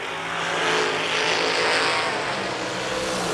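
A top dragster blasts down the drag strip at a racing event, a loud roaring rush of engine noise that swells and holds, heard from the stands without talk.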